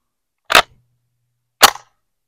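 Two sharp, loud reports from a Taurus CT9G2 9mm carbine firing 115-grain full metal jacket rounds, spaced about a second apart with quick decay and no talk.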